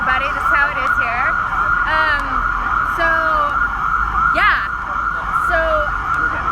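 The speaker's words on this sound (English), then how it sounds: "There's some really loud sirens happening that's getting louder." Loud wailing sirens sweep up and down continuously outside in New York City, with several overlapping siren tones close by, growing louder while a person talks over them.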